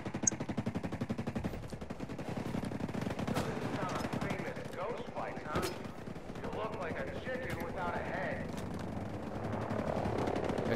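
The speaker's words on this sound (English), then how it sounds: "Shooting at us, probably." Rapid automatic gunfire in the video game Ghost Recon Breakpoint rattles in fast, steady bursts, mixed with a helicopter-like drone and game ambience, with voices talking over parts of it.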